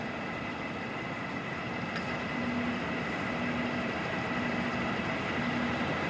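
A Stanko 6P83 universal milling machine with a 1700 mm by 400 mm table runs its table at rapid traverse, giving a steady, fairly quiet mechanical hum and drone that holds throughout without speech.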